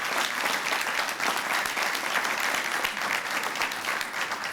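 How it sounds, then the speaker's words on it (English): An audience at an auto technology training center event gives a sustained round of applause, dense and even clapping from many hands with no speech over it. "let's give a round of applause again to these folks"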